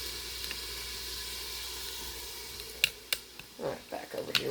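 Onion hitting hot fat in a skillet for biscuits and gravy, giving a soft steady sizzle with a few sharp crackles and pops building toward the end, close and fairly quiet.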